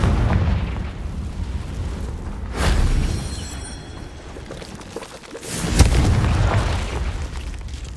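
A Confringo fire spell explodes in the Hogwarts Legacy video game, two heavy booming blasts a few seconds apart rising over a rumbling battle bed, loud and close.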